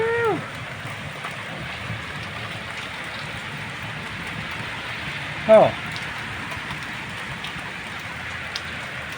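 Large hailstones pelt a car in a dense, steady patter that hisses on without letup, while a person briefly exclaims partway through.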